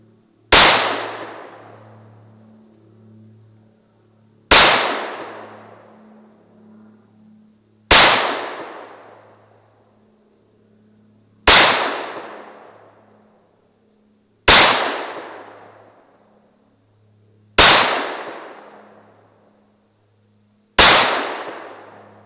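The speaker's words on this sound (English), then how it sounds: "next up, 10 rounds of the plus P" Seven sharp, loud 9mm +P pistol shots firing Speer Gold Dot rounds, evenly spaced about three seconds apart, each crack decaying into a short ringing tail with a low hum underneath between shots.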